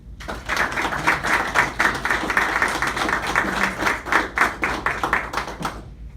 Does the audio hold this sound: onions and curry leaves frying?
no